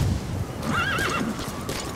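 D-Horse in Metal Gear Solid V gives a clear, wavering neigh over a steady background of hoofbeats and ambient game noise, with no speech.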